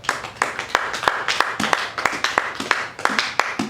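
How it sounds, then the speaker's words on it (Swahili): A church congregation claps in an uneven, ragged rhythm, close and steady for several seconds with sharp individual hand strikes and no talk over it. "Kama unanielewa, mpigie Yesu makofi."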